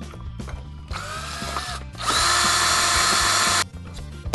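A power drill drives screws into blind brackets, a close, loud whine in two bursts, one short and one longer, with brief pauses between.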